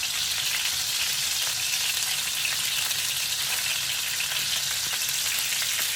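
Meatballs browning in hot oil in a pan for a meatball and potato korma sizzle loudly and steadily, a dense crackling fry with no voices over it.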